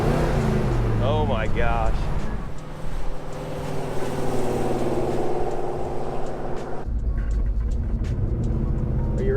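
The 454 big-block V8 of a 1970 Chevrolet Chevelle roars loudly and continuously close by, with tire spinning, while a voice exclaims over the engine noise.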